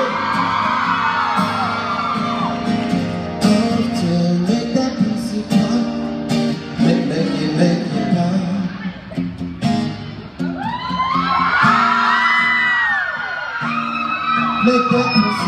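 A live concert crowd in Chattanooga, Tennessee whoops, yells and cheers loudly and continuously throughout, filling the space around amplified music and a booming performer's voice.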